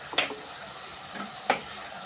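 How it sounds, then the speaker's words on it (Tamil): Paneer gravy masala being stirred and sautéed in a pan: two distinct scraping stirs over a steady soft sizzle of frying, close and moderately loud. "எல்லாத்தையும் நல்லா வதக்கி விட்டுக்கலாம்."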